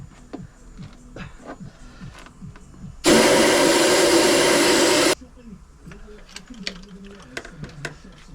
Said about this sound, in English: I forgot to blow the hole out. To make sure there's no bloody